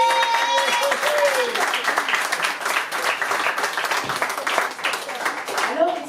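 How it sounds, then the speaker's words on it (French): An audience at a live concert applauds in a sustained, fairly loud wash of clapping, with a speaking voice and a few cheers rising over the crowd near the start and end. "Étienne, je vous demande d'applaudir."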